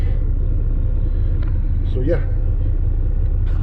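Steady low rumble of a grain truck hauling a load of wheat, the engine droning continuously close by, with a brief voice speaking over it.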